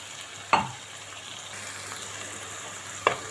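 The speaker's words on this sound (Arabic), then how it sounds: "ان انت تشوحي التوابل مع البصل" Spices with onion sautéing in a pan: coriander, cumin, black pepper, paprika and chicken seasoning cooking quietly under a steady low sizzle, broken by two sharp utensil knocks or scrapes against the pan.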